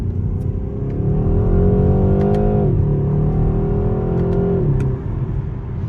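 A 265-horsepower BMW 128ti accelerates hard in sport mode, its engine note climbing steadily, dropping briefly at a gear change, then rising again, loud and close from inside the car.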